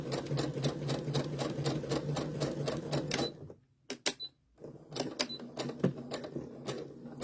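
A sewing machine stitches in fast, even clatter with its speed governed by a presser foot pedal, pauses briefly partway, then resumes at a slightly uneven pace, close up with no talking.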